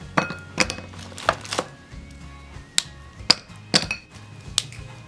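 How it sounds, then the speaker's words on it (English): Pieces of broken white chocolate, 150 grams, drop into a microwave-safe bowl as a series of sharp, close clinks and taps in irregular bursts, with quiet pauses between them. "Break the 150 grams white chocolate and add into a microwave-safe bowl."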